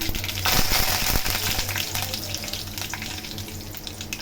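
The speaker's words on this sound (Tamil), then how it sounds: "கடுகு பொறிஞ்சவுடனே கொஞ்சம் கருவேப்பிலை ஆட் பண்ணிக்கலாம்" Curry leaves and mustard seeds fry and splutter in hot oil, a loud, dense crackling sizzle with sharp pops that peaks early and then settles into a steady hiss, with no voices.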